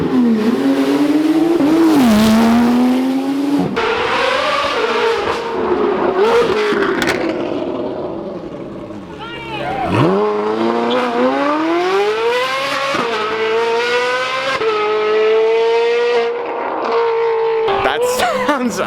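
Koenigsegg supercar engine revving hard and accelerating, loud and close, with rising and falling pitch sweeps, brief tire squeal, and voices talking underneath.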